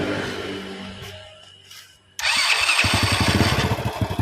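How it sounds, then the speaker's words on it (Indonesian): Carbureted motorcycle engine catching on a double-start attempt: a short cranking whirr, a brief pause, then a sudden burst into a steady, loud idle with fast, regular pulsing firing beats. "saya gunakan double start langsung menyala"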